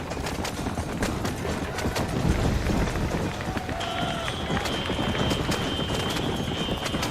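Rapid galloping hoofbeats of a horse in the video game Red Dead Redemption, continuous and close, with a faint whinny and some game ambience layered underneath.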